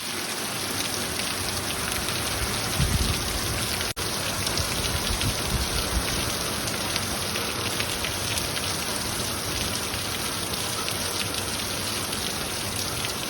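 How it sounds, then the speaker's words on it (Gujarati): Steady, dense rain falls in Gir, a constant hiss of drops on surfaces with no pauses, loud and close throughout. "ઝીણો વરસાદ તો આમ તો ચાલુ જ છે પણ થોડોક વધ્યો"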